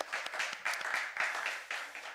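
A church congregation at a Korean Sunday worship service claps in thanks to God. The applause is brief and moderately quiet, with a few bursts of clapping and no talk.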